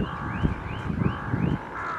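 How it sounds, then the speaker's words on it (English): Crows caw outdoors in the open countryside, several harsh, drawn-out calls repeating in quick succession at moderate distance, with no talking over them. "Crows are out."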